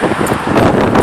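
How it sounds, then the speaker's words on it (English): Steady wind blows across an outdoor microphone, a broad continuous rush with gentle gusting and no clear pauses, loud and close for about a second. "Maybe if I go down here, it'll be less windy."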